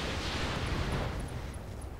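Gauss rifle and missile salvo fired in the mech combat game RogueTech, a dense, loud rumbling barrage of booms that holds steady for about two seconds with no talking.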